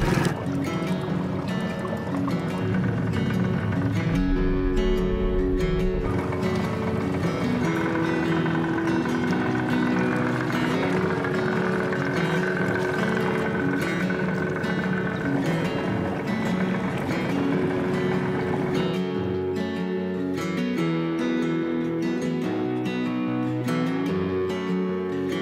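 Steady drone of a fishing boat's engine running on water in a Georgia creek, continuous and fairly loud throughout with a broad rumbling wash.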